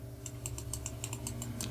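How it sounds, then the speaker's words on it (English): Bracket keys on a computer keyboard are tapped repeatedly in a quick, even rhythm, about a dozen crisp clicks close up over a low steady hum, with no voice. "with the bracket keys on my keyboard, I can cycle through the size"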